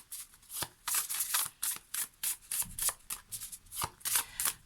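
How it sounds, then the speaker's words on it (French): A deck of oracle cards with braille on them being shuffled by hand: rapid, crisp riffling bursts in a steady, close rhythm, with no voice over them. "on va prendre quelques cartes pour essayer d'y voir plus clair"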